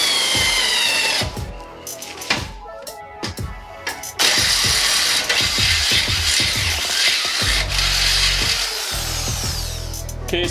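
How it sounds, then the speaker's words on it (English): A power drill bores up through the underside of a steel frame on a 3rd-gen Toyota 4Runner during a front bumper install. Loud, close stop-start whirring bursts build into a sustained grinding run with a deep rumble. "we're going to go ahead and drill up through the bottom of the frame"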